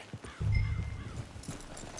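A few quiet hoofbeats clop close by in a forest in the video game Red Dead Redemption 2, a short soft burst of horse steps with a faint whinny-like tone.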